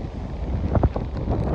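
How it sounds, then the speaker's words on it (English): Outdoor wind buffets a microphone on a very windy day, a steady low rumbling roar with a couple of stronger gusts partway through. "very windy today."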